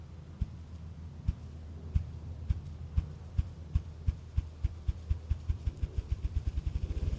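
A ruffed grouse drumming display: low muffled wingbeat thumps begin slowly and evenly spaced, then speed into a rapid accelerating roll, faint against a steady outdoor hum.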